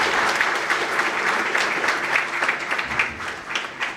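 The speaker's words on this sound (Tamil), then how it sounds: "ஒரு பலத்த கைத்தட்டல் மரியாதைக்குரிய ஜோதிராஜ் சார்." An audience at a Chennai motivational event for online students breaks into loud, dense applause for a guest, a continuous crackling roar of many hands that swells and tapers slightly near the end.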